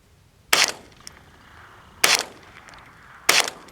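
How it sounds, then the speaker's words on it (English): Three sharp .22 LR gunshots, Browning 40-grain hypervelocity rounds, strike a cinder block outdoors, loud cracks about one and a half seconds apart, each with a short ringing tail. "Let's shoot the cinder block."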